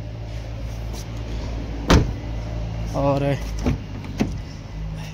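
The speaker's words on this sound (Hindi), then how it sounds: "ये पावर विंडोज़ है चारों की चारों" Power windows on a used Hyundai Elantra or Toyota Innova whirring up or down in a brief motor run, close by, with a door-like clunk before it and someone talking over the car.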